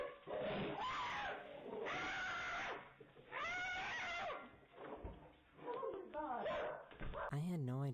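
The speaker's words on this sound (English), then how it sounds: "She was trying to go for a walk when her dog spotted something." A dog barks and yips repeatedly in a doorbell-camera recording of a woman trying to go for a walk, the barking mixed under and around loud overlapping voices.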